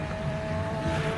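A thunderous race car engine roars steadily at a hill climb, a loud sustained drone with a constant tone and no speech.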